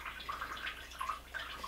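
Water running from a faucet in an off-grid water system, a faint, uneven trickle with soft splashy bursts, heard quietly and alone.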